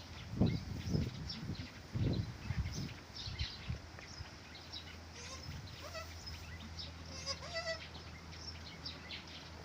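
Goats bleating on a Thai farm, several short calls scattered through the clip, some near and some farther off, with faint bird-like chirps and steady low background hum.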